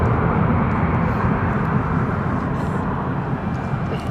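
VistaJet business jet at London City Airport, a loud, steady engine roar with deep rumble, close and continuous, fading slightly toward the end.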